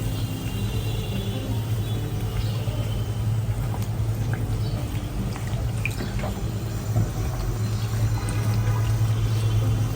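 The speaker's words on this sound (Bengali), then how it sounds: "এভাবে প্রতিটা বেলে এবং এইভাবে ফ্রাই করে নিতে হবে" Rolled beef shakkara dough frying in hot oil, a dense steady bubbling sizzle with a low rumbling hum beneath, close and continuous without speech.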